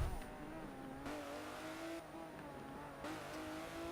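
In the Forza Motorsport 7 video game, a Lamborghini Aventador race car engine drones at high revs, rising and shifting in pitch across gear changes, steady and fairly faint throughout.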